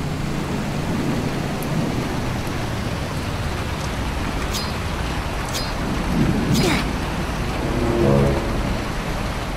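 Steady rain hisses through a Roblox game world with a low constant wash, a few faint crackles and a soft rumbling swell near the end.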